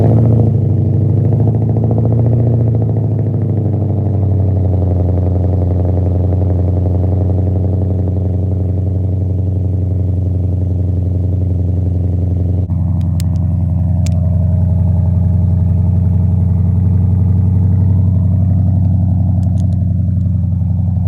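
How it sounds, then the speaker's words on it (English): Car fitted with a new exhaust that still has its resonators, running after a cold start: a loud, steady low engine drone close by that settles in pitch partway through, with a few brief clicks. "I'm gonna do a little cold start right now."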